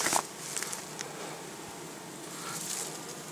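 Soft, steady buzzing of many honeybees close by at a hive, a low droning hum with faint insect whines rising and fading over a continuous background.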